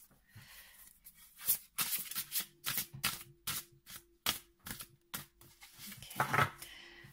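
A deck of tarot cards is shuffled by hand, a quick run of soft riffling flutters and taps in an irregular rhythm, quiet and close, with no talking.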